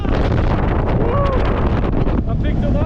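Strong gusting wind in the mountains near Snowdon, a loud roaring rush buffeting the microphone throughout, with faint voices partly buried beneath it.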